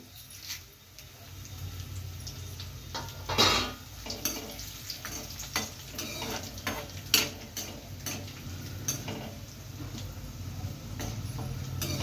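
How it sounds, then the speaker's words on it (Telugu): Dried red chillies frying in hot oil with cumin and mustard seeds for Andhra-style okra fry, a steady low sizzle with scattered clinks and scrapes of a spoon against the pan, fairly quiet and close. "చూడండి జీలకర్ర ఆవాలు వేగిన తర్వాత మనం ఎండుమిర్చి కూడా వేసుకోవాలి"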